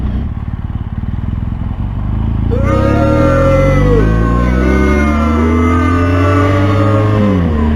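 A BMW GS motorcycle engine roars loudly, its pitch climbing and dropping through repeated gear shifts as it speeds up on a canyon road.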